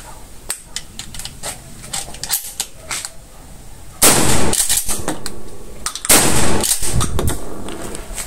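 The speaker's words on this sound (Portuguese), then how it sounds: "Para a segunda série de 2 disparos em 20 segundos." A smoothbore long gun fired in a series of two shots on a shooting range during a qualification test, two loud, sharp blasts a couple of seconds apart with ringing decay, amid quieter range sounds.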